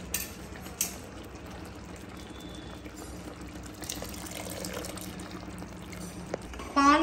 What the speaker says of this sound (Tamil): பால் வந்து ஒரு 1/2 லிட்டர் பால் ஆட் பண்ணிக்கலாங்க